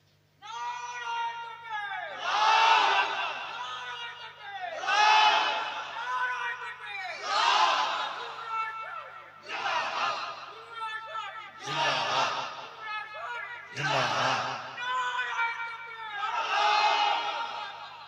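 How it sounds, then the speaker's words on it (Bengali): At a religious sermon, a large crowd shouts takbir in repeated loud collective roars, about seven bursts in steady rhythm with brief gaps between them. "আর ওহ তাকবীর মারো একবার দেখি"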